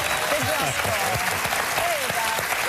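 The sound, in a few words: studio audience applause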